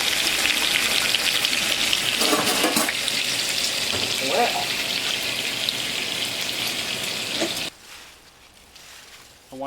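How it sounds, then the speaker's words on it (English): Pork chops frying in a kitchen pan, a steady loud sizzle and crackle running nearly continuously before cutting off abruptly near the end, leaving quiet background. "She's frying up pork chops tonight"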